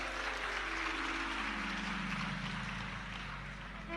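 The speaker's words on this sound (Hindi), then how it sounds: "ताली बजाने से कुछ नहीं होगा" An audience claps at a Hindi devotional talk on remedies, producing a dense, even wash of applause that holds steady for about four seconds with no voices over it.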